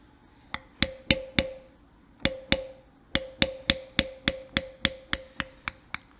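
A lifter tool is tapped into leather with a mallet while carving a floral belt design, giving crisp, sharp knocks in quick rhythmic runs broken by a short pause, loud and close with no voices.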